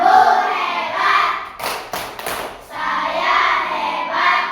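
A classroom claps a short rhythmic cheer together, a quick cluster of sharp hand claps set between stretches of voices chanting and talking.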